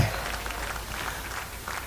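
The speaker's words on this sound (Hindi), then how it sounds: "दोनों मैम के लिए भी जोरदार तालियां हो जाए" An audience at the grand finale of a dance competition in Seppa, Arunachal, claps for two guests, a steady wash of applause with a low hum beneath it.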